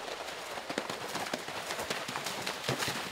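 Horse galloping over an eventing cross-country course at a three-day event, with steady rhythmic hoof thuds and clip-clops on turf that briefly break stride, up close throughout.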